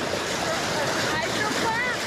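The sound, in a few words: water pouring over a low-head dam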